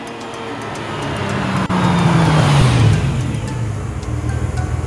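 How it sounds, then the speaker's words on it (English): A car drives past close by as its engine tone rises and then falls away, with a loud rushing swell near the middle that fades into road noise. "car."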